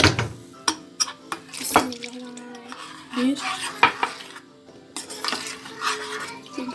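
Milk poured into whipped cream in a bowl, with frequent clinks of utensils against dishes and pans and light stirring, close and fairly busy.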